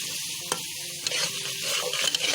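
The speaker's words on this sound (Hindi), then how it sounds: "चले 2 मिनट इसको मैंने अच्छे से भून लिया" Masala for bhindi masala is stir-fried in a pan, giving a steady close sizzle with a few sharp spatula scrapes and taps against the pan, and no talking.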